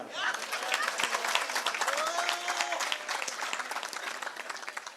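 Audience at a Kannada stand-up comedy show applauding, a dense, sustained round of clapping from a crowd that holds steady and eases off slightly, with some voices mixed in.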